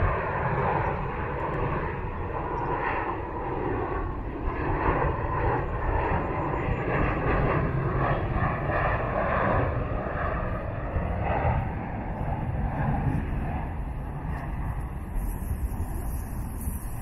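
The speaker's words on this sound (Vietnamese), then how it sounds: "Đây là pha cánh của chiếc Sukhoi Superjet 195-MA mình quay từ camera góc rộng." A Sukhoi Superjet 100 airliner in flight near Noi Bai International Airport gives a loud, sustained engine roar with a steady whine and rumble that holds for the whole stretch, with no talking.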